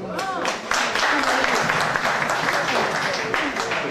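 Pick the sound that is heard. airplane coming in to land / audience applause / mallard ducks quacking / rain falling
audience applause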